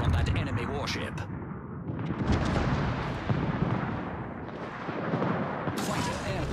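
Naval artillery in a warship battle game, heavy booming salvos and rumbling fire aimed at an enemy warship, mixed with a voice talking throughout.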